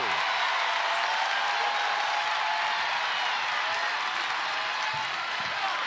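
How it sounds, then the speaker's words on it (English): Steady, roaring wash of an Ohio State crowd in a basketball arena during an NCAA women's tournament game against Tennessee, a dense continuous hiss of cheering and noise at a constant level throughout. "Feel this Ohio State crowd hanging on, trying to will their team to make a run"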